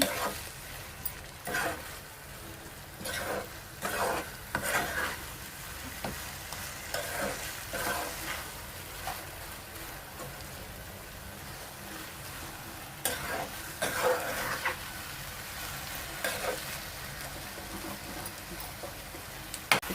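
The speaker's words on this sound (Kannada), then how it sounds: "ಚೆನ್ನಾಗಿ ಫ್ರೈ ಮಾಡ್ಕೋಬೇಕು." Grated raw mango for pickle fries softly in a pan, a low steady sizzle broken by repeated scraping strokes of a spoon stirring it, fairly quiet and close.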